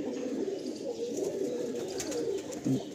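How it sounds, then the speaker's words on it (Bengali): Kalanka pigeons coo softly and repeatedly inside a loft, with low rolling calls close by and a slightly louder burst near the end. "দাদার ঘরের এক সেট কালাঙ্কা পেয়ার।"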